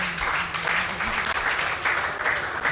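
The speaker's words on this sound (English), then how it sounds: "Make we clap for him" Applause at an outside broadcast of the Brekete Family radio program, welcoming back a consultant: a sustained, fairly even clatter of many hands, with a faint low voice beneath.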